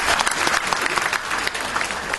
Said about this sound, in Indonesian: Bangkit berdiri, tepuk tangan yang besar.